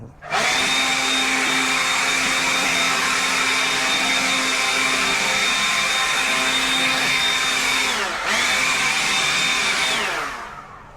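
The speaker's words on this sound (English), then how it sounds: "I'm going to use my blower first" A handheld leaf blower roars steadily and loud while clearing debris off newly laid pavers, holding one even pitch for about ten seconds with a brief dip near the end before winding down.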